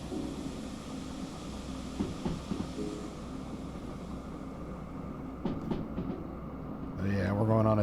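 A train in the Derail Valley game coasts downhill toward the sawmill, giving a steady rumbling roll with faint clanks and rail noise throughout, while someone talks over it, and a tonal in-game alert chimes at the end.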